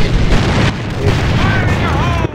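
A grenade goes off in the shooter AVA, a loud booming blast up front followed by a rumbling tail, while players shout and talk over it.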